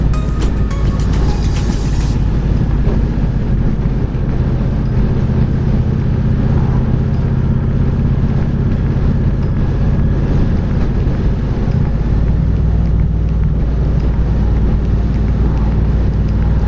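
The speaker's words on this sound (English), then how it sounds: "There's like a lot of like burbling, gurgling exhaust sound." Low, rumbling engine exhaust burbles steadily throughout, with a gusty wind-noise wash over the microphone; no voices.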